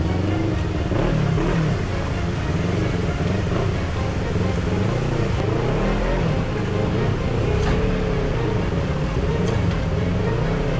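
Motorcycle on a Sunday group ride in Davao City, passing through water, with a steady loud engine drone and wind noise running throughout, voices faintly beneath.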